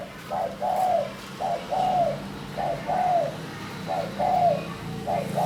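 A former decoy bird, now kept as a house guard, gives repeated soft cooing calls in an even rhythm, four or five phrases spaced about a second apart, close and clear over a low background hum.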